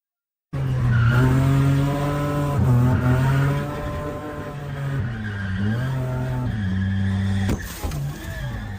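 Race car tires screech and skid in a video game, with a loud, sustained engine whine rising and falling over about eight seconds and no voices.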